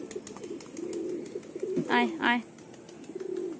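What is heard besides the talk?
pigeons cooing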